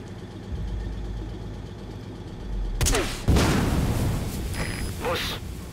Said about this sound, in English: Use our grenade launcher.